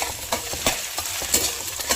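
Ginger garlic paste frying in a pan for a matar paneer gravy, giving a steady close sizzle broken by several quick scraping stirs, with no talking.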